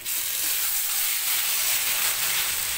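Marinated pork sizzles steadily in a hot pan, a dense, even frying hiss that carries close and loud through the whole stretch with no voices over it.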